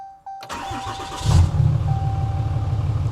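A 2013–2018 RAM 6.7 Cummins diesel truck engine cranks briefly, catches, and settles into a loud, throbbing idle close by.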